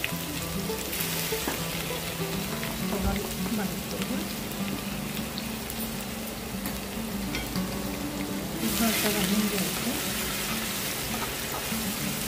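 Coarsely crushed garlic fries in hot oil in a pan, giving a continuous close sizzle and crackle that swells briefly near the end, with a voice speaking faintly over it.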